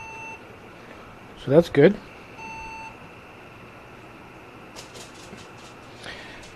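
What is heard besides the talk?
computer motherboard beeping at power on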